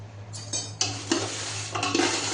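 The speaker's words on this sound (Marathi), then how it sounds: "आणि ही पण मिरची छान भाजून घेऊया।" Red chilies being dry-roasted with a little oil in a pan while making black masala, heard as a few scraping stirs and soft sizzling over a low steady hum, with no talking.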